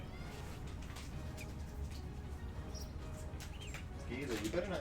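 A cat meows in close-up, with short, high cries near the end over a steady background hum, as someone offers treats to a squirming kitty.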